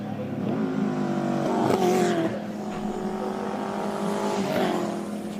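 A Subaru WRX Impreza races up a hillclimb course, its engine loud and close with rising revs, gear changes and a brief tire squeal as it powers past.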